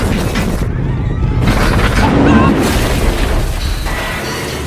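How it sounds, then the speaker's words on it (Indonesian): A loud, sustained blast of roaring explosive noise with rumbling low end and crackling bursts, dense and close throughout. "menekan pemicu bom dan seketika terjadi ledakan di sekelilingnya"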